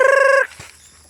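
A short, bright squawking call rings out close by, then cuts off into quiet with a faint thump and low rustle.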